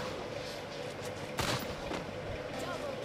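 Gunfire in a shooter video game: one sharp, loud shot cracks out midway over a dense, steady bed of game noise.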